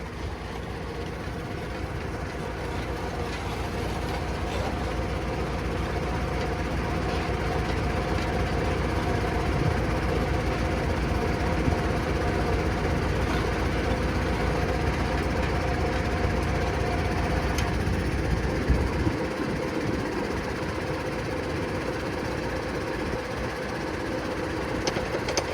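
A New Holland T6 160 tractor drives an Opico post hole borer, its engine holding a steady, fairly loud drone from start to finish with a slight shift in the low rumble near the end.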